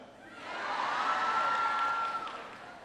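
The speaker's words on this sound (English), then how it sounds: "You're all just cheering because I know Michelle." A crowd cheers and applauds for President Obama as he arrives at an American energy event, a broad steady roar of clapping and shouts that swells and holds, with a whistle-like tone riding over it.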